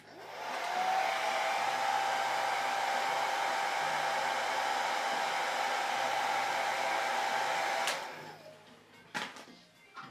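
A hot-air tool blows steadily and fairly close for about eight seconds to warm a resin garage kit part before airbrushing, then cuts off, leaving a few faint clicks and handling knocks.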